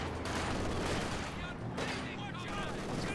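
Sustained gunfire from an LMG squad in a World War II strategy game, a continuous loud rattle of rapid shots and distant booms, with a commentator talking over the battle.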